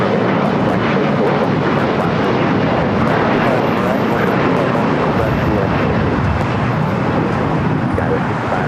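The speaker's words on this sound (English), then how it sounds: "Delta A321 Neo touching down here on the south side." A Delta Airbus A321neo touches down on the south-side runway at LAX, a loud, steady broadband roar of jet engines and rushing air that holds throughout without letting up.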